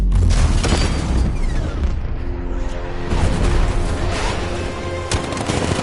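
Tank cannon fire in Batman: Arkham Knight, a dense, loud run of deep booms and blasts with rumbling low end, continuous over about six seconds without pause.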